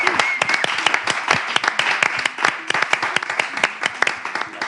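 An audience applauds for a caller on a radio show, the clapping close and dense with distinct individual claps, a voice talking over it.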